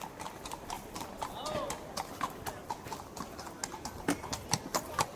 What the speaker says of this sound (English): horse on cobble soundbite to use as like a sound effect here